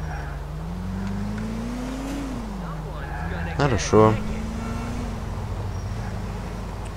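A car engine in Grand Theft Auto IV drones steadily throughout, its pitch rising and falling with a brief revving burst midway, while someone speaks a short word over it.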